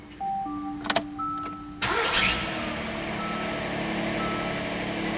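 Hyundai Santa Fe XL starter cranking with an odd noise: electronic tones and clicks, then the engine cranks and catches into a steady close running rumble.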